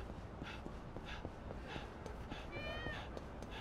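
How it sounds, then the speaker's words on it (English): A cat meows in the video game Yakuza 6: The Song of Life, a short rising call near the end over steady, busy background game ambience. "I hear you, cat."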